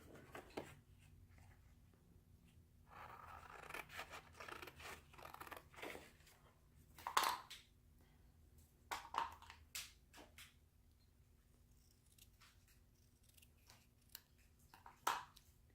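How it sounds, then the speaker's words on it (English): Scissors cut paper for a handmade Easter card: a few quiet, sharp snips spaced apart, close up, in an otherwise hushed room. "I'm just going to cut it here."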